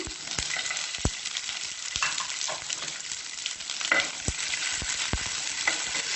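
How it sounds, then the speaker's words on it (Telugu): Garlic, onion and capsicum fry in a pan for chicken Manchurian: a constant close sizzle broken by sharp, irregular spatula taps and scrapes against the pan, with no voices. "వేసి కొంచెం ఫ్రై అవ్వనివ్వాలి."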